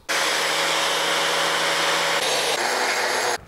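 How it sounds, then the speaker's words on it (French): A drill bores into stainless steel with a loud, continuous high whine that starts abruptly, holds steady for about three seconds with a slight change in tone partway, then cuts off. "je vais percer"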